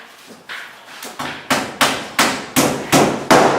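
Hammer blows drive nails while plywood sheathing goes onto walls during a bathroom renovation, about eight sharp, loud strikes in a steady, slightly quickening rhythm, close by, with no talk.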